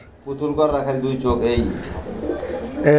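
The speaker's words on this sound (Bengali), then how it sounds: "গররা কবুতর একটা জোড়া দর্শক ব্ল্যাক গররা" A pair of black Gorra pigeons coos in soft, low, rolling calls close by, partly under a voice speaking over them.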